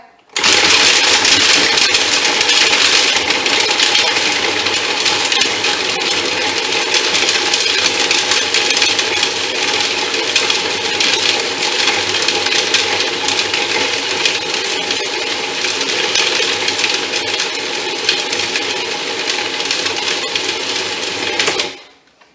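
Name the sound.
food processor blending peanut butter energy bite mixture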